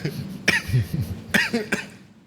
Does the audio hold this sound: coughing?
yes